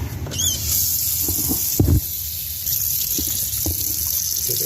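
Water runs from a tap in an RV with the water pump on, a steady hiss with a few knocks and clunks at close range.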